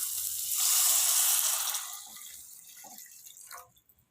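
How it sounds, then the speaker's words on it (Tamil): Water is poured into a pan of onion-tomato masala for semiya upma, a loud splashing gush that swells and then tapers into a gentle sizzle and a few drips. "இதில் 400 ml அளவுக்கு நம்ம தண்ணி சேர்த்துக்கலாம்"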